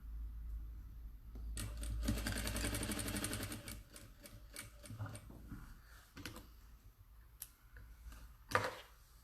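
A sewing machine stitches a kaleidoscope table runner in short bursts, with a fast mechanical whir running for a few seconds and then shorter stop-start runs and clicks, close and fairly quiet.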